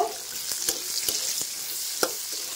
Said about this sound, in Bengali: এবার একটু নাড়িয়ে চাড়িয়ে দেব।